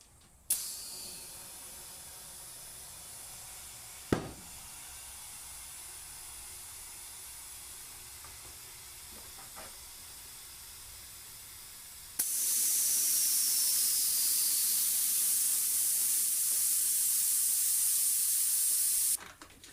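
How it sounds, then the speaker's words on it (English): Compressed air hisses steadily into a tire inner tube on a 1947 MG TC wheel, first moderately for several seconds after a sharp burst, then a much louder, continuous rushing hiss. "blow this tube up and let it down a couple of times to make sure there's no wrinkles in it"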